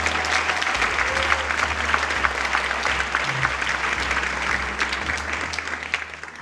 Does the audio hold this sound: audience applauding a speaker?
yes